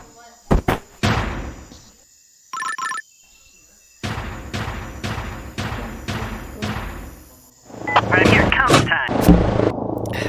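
Cannon in the Henry Stickman video game: a few sharp booms and thuds early on, then a stretch of rapid mechanical clattering and a louder, busier burst of game sounds at the end.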